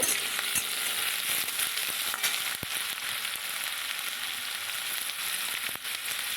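Drumstick flowers with green chillies sizzle loudly in a pan as they are stirred, a dense, continuous frying hiss broken by occasional scrapes of the spatula against the pan.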